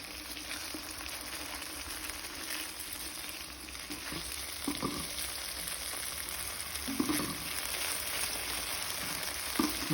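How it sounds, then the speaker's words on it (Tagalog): Purefoods sizzling sisig with egg fries steadily in a pan with a constant close sizzle, while a spoon stirs it in a few clinking, scraping bursts. "Ihalo lang natin mga kaulam ideas hanggang sa maluto ang ating itlog"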